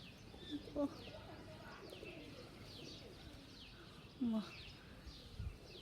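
Soft pigeon coos sound twice in short bursts over a quiet outdoor background, with faint chirps from other birds.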